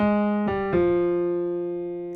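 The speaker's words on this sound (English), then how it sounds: "I have a little bass fill now for the left hand." Low piano notes played one after another in a short bass run, ringing out and sustaining clearly with no voices.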